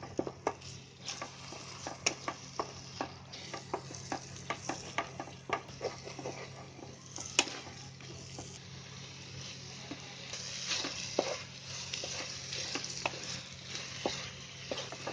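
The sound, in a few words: stirring egg and masala frying in a pan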